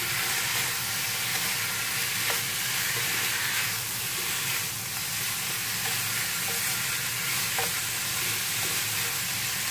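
Beef stir-fried with lemongrass and garlic over high heat in a pan, a steady loud sizzle and hiss running throughout with occasional stirring clinks, no voices.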